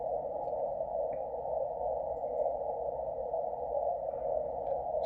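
A steady, unbroken shortwave beacon tone from Hong Kong on 14100 kHz hums over a bed of faint static hiss, holding the same pitch throughout.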